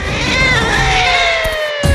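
A cat yowls and meows in a long, wavering, drawn-out call, loud and close, with no talk over it.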